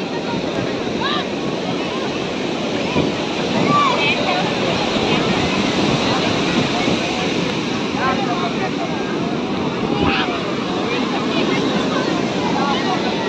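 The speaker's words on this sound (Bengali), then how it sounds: "এটা হলো রাতের সমুদ্র" Ocean surf rolls onto Puri beach at night, a steady, full roar of breaking waves that never lets up, with faint voices scattered in the background.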